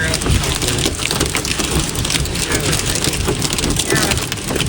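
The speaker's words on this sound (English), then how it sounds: "then all of a sudden, boom, now we have hail" Heavy rain mixed with hail drums on a moving vehicle while driving, a loud, dense, continuous patter with sharp scattered impacts; voices can be faintly heard underneath.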